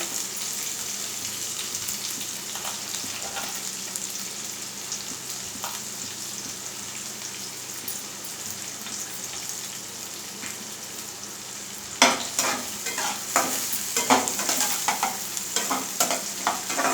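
Finely chopped onions with curry leaves frying in a pan, a continuous close sizzle that grows busier and louder partway through as stirring and crackling pick up.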